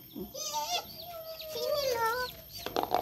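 Chickens cluck and squawk in a short, busy burst, fairly close, with a voice faintly mixed in.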